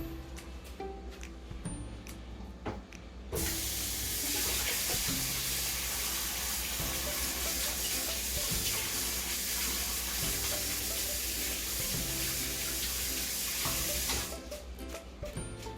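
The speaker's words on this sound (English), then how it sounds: "I like to wash the gloves. That's what I'm doing now." Kitchen gloves washed under a running kitchen tap while making curry chicken: a loud, steady rush of water that starts abruptly and runs for about ten seconds before cutting off, with light handling clatter around it.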